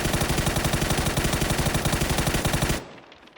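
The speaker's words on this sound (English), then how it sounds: "I hold my breath when I shoot" Sustained automatic gunfire rattles in a PUBG match on Xbox console, fired without recoil control: a rapid, even burst of loud shots for nearly three seconds, then abruptly cut off into a fading tail.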